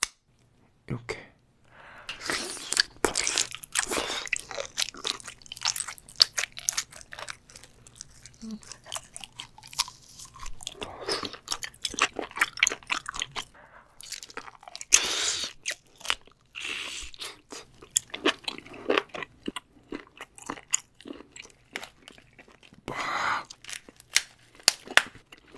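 Raw seafood, a giant octopus and king tiger shrimp, is bitten and chewed close to the microphone, with sharp crunches and wet, squelching chews coming in irregular bursts separated by short quiet gaps.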